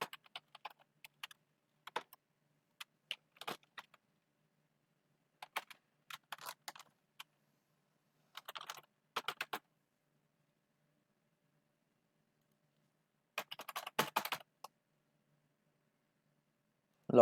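A computer keyboard clicks in short bursts of quick keystrokes separated by pauses, close and fairly quiet, as a login email is typed in; no one speaks.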